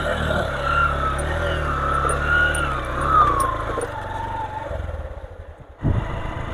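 A vehicle on a dirt road through dense forest, its engine droning steadily and growing nearer, then dipping before a sudden louder surge at the end.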